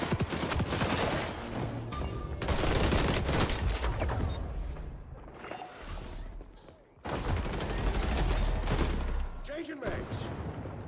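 Rapid bursts of gunfire in the first-person shooter XDefiant, dense volleys with brief lulls around the middle, loud throughout with game sounds and voice callouts mixed in.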